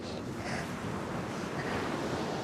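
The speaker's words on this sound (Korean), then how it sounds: "파도야" Ocean waves wash onto the beach at Mohang, a soft, continuous surf rumble heard from some distance with no talking.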